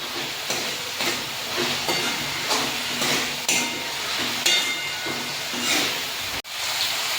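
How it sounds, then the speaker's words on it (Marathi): Ginger garlic paste and tomatoes sautéing in oil, with a constant sizzle broken by regular spatula scrapes and stirring strokes about once a second, heard up close. "दोन मिनिटांसाठी आलं लसूण पेस्ट तेलामध्ये परतून घेऊ"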